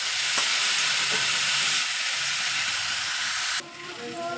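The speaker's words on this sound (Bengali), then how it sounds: "এখন আমি এটা নাড়বো।" Potatoes frying for a puffed-rice snack in a pan, a loud dense sizzle with light stirring scrapes that suddenly drops to a quieter hiss near the end.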